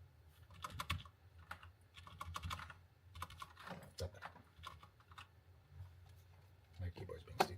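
Computer keyboard typing arrives in clusters of quick clacking keystrokes with short pauses between bursts, close to the microphone, over a low electrical hum.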